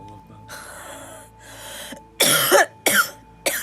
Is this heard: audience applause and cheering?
no